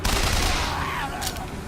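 Rapid gunfire crackles in the video game BioShock Infinite, a dense burst of shots running through the whole moment at modest loudness with no voice over it.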